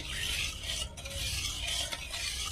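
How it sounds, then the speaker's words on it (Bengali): Powdered milk being stirred into milk for Bengali dud puli, a continuous close scraping and swishing of a spoon in a pot, soft and steady with brief pauses. "এক প্যাকেট গুঁড়ো দুধ এখানে আমি দিয়ে দেবো দিয়ে এইভাবে একটু নেড়ে চেড়ে দেবো"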